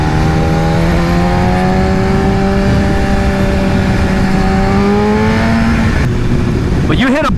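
BMW S1000RR sportbike fitted with an Akrapovic exhaust, loud droning engine note climbing in pitch and then dropping as it shifts up, steady and close, with wind roar underneath.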